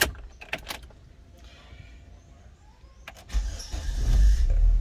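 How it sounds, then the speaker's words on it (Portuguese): A Chevrolet Zafira Elite automatic is started from inside the cabin: keys rattle and a few clicks, then the starter cranks and the engine catches into a rising low rumble. "deixa eu dar uma partida aqui no carro."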